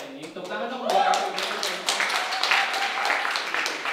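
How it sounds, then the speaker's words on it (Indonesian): An audience applauds at an Indonesian student association event in Berlin: a dense, steady patter of hand claps lasting several seconds, with voices mixed in underneath. "Tepuk tangan dong buat"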